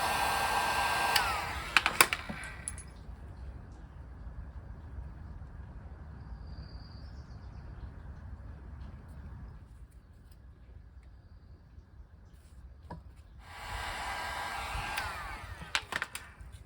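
A heat gun blowing on a plastic tube to soften it for forcing onto a camper sink fitting, a steady airy drone running unbroken through most of the stretch, with louder handling clatter at the start and end.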